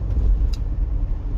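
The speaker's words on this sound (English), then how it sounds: "This very car I'm driving." A car being driven, heard from inside as a steady low rumble of engine and road noise over a short moment, with no talking.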